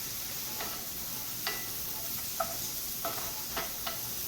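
Portobello mushrooms sizzle softly in a hot pan, a faint steady frying hiss broken by a few light clicks of a utensil against the pan.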